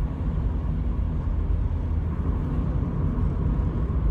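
Car engine cruising in fifth gear at about 48 mph on a busy road approaching a roundabout, a steady low rumble with road noise, continuous and even throughout.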